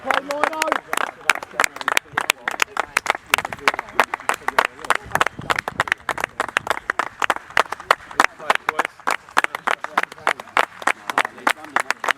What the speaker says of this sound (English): a slightly extended round of applause there for the lads